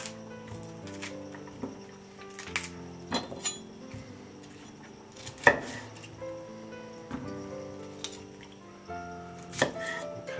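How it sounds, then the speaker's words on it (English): A knife chops a cauliflower into pieces on a board, with irregular crisp thuds and clicks spread across the stretch, some louder cuts standing out, close and without talk. "Now that piece is pretty large, so I'll cut that in half."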